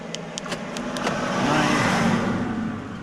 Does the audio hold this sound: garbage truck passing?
yes